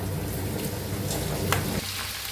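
Chopped cabbage goes into a hot pan and fries with a dense, steady sizzle. A brief clatter comes partway through, and then the hiss settles slightly quieter.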